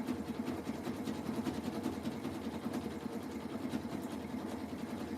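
Sewing machine running a wide zigzag stitch across jelly roll fabric rug strips, a steady close mechanical whir with a fast even rhythm throughout.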